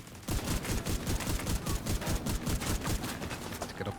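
Rapid automatic gunfire from The Division 2, a dense loud stream of shots near the player that keeps going for about four seconds with no one speaking over it.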